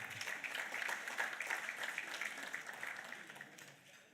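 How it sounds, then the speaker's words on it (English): A crowd gives sustained applause at an awards ceremony in Swakopmund, Namibia, a steady, moderately distant wash of clapping that fades gradually toward the end. "let's give them another round of applause"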